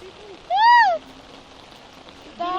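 Steady hiss of heavy rain falling, with a brief rising-and-falling tonal chirp partway through and another faint one near the end.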